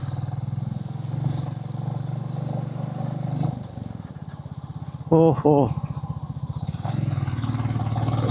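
A motorcycle engine drones and clatters steadily while it is ridden over a very rough road in the West Bengal to Jharkhand countryside. A voice briefly exclaims partway through.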